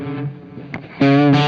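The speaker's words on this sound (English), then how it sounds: "So if I bent here" Distorted electric guitar playing a unison bend with a country twang: a quieter bent phrase, then a loud sustained doubled note that swells in around the midpoint and rings to the end.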